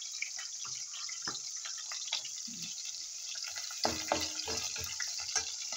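Chopped onion sautés in a hot pan with a soft, continuous sizzling hiss. Scattered small crackles and pops sound close but quiet, with no voices.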